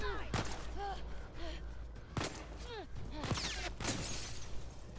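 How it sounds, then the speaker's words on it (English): Gunfire from The Last of Us Part II gameplay trailer, several sharp shots spread across a few seconds, mixed with music tones and an onscreen character's breathy gasps. "How she runs away and the bullets are shooting everything."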